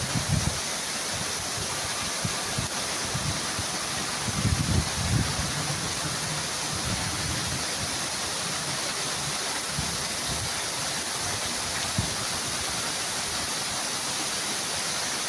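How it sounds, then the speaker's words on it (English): Heavy rain from a pop-up June thunderstorm in Cincinnati, Ohio pours steadily onto a lake, a dense continuous hiss with no voices, fairly loud and unbroken throughout. "The rain hitting the lake, it looks like it's coming down in sheets."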